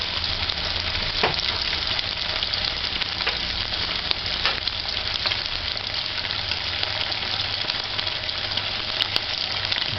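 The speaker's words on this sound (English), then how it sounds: "Allow that to fry on one side for about 2 minutes" Fish frying in a pan with a piece of ginger: a loud, dense, continuous sizzle and crackle with scattered spits and pops, close and steady throughout.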